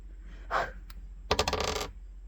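Dice rolling on a hard surface: a brief clatter, then a louder burst of rapid rattling clicks that quickly dies away, with no talking.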